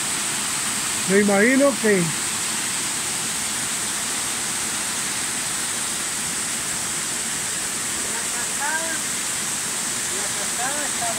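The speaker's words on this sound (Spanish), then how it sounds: "cómo se va el agua para abajo. Hay sus carcaídas." Steady broadband rush of water falling down a waterfall into a ravine at a farm, constant and fairly near throughout, with someone speaking briefly over it near the start.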